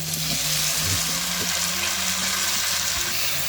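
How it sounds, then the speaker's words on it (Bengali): Prawns, potato and ridge gourd fry in a pan for a light Bengali ridge gourd and prawn curry, giving a loud, continuous close-up sizzle with some stirring underneath. "ঠিক এই পর্যায়ে দিয়ে দিচ্ছি আগে থেকে ভেজে রাখা চিংড়ি, আলু এবং ঝিঙে।"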